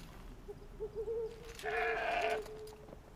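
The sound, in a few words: goat bleating in video game Horizon Zero Dawn Frozen Wilds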